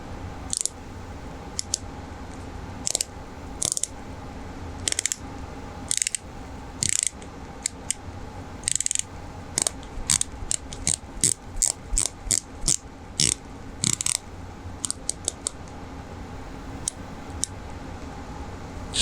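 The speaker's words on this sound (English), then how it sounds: "Now let's see how this beautiful different bezel sounds and feels." An Omega Seamaster Diver 300 titanium dive watch bezel is turned by hand, giving crisp close ratcheting clicks, sometimes single and sometimes in quick runs, over a quiet background.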